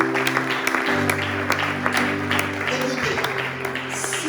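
A church congregation claps rhythmically to praise the Lord, sharp steady hand claps over sustained low musical tones, with voices mixed in.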